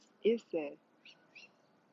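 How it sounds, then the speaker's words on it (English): A few short bird chirps outdoors, two louder calls followed by two fainter ones, over quiet background hiss. "There's so many sounds out in nature. It's birds."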